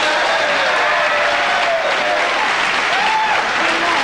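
A Tonight Show studio audience claps in a thick, sustained burst of applause, with a few voices calling out and cheering through the steady clatter of hands.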